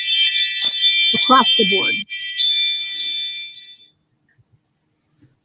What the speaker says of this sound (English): that was my ring doorbell thing